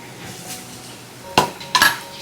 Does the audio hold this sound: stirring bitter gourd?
yes